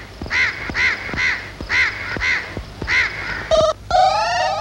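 A crow caws repeatedly in a steady series of harsh, close calls, about eight in a row, followed by a few higher warbling bird notes at the end.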